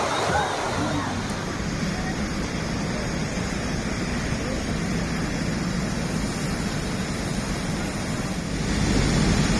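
Waves wash constantly onto a busy, packed beach in Rabat, Morocco, a broad roar of surf mixed with wind buffeting the microphone, loud and steady throughout.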